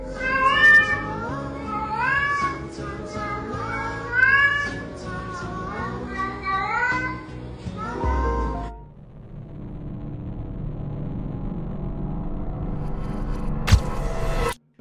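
A cat meows repeatedly in drawn-out, pitch-sliding cries over a musical backing, caught on a trail camera, then the cries stop and a low rumbling background continues.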